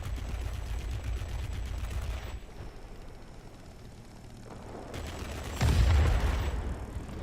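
Guns of an XF5U warplane firing in the World of Warplanes game: dense, loud bursts of rapid gunfire, with a louder, heavier burst near the end and no talk.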